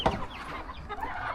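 Hens clucking close by on a farm, a steady run of short clucks with no talk.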